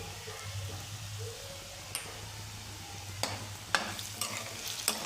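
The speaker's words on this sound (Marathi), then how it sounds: "ह्या कांद्यासोबत बटाटा परतून घ्यायचा आहे" Potatoes and onion stirred in a pan for dum aloo curry, with a low steady sizzle and a few sharp spatula taps against the pan toward the end.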